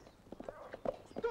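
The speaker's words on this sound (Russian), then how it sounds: "Мой конь!" Horse hooves clopping in a 1991 film scene, a quick uneven run of thuds close by, partly mixed with other sounds and faint voices.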